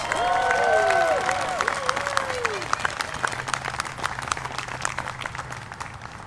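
Applause from an audience at a Libertarian presidential campaign rally in Covington, Kentucky, loud and dense at first, then thinning into scattered claps, with voices and cheering whoops rising over it early on.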